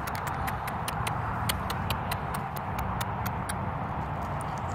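Hooves of a horse clip-clop at an even, quick rhythm, moderately close and clear over a steady low background rumble, with no talking.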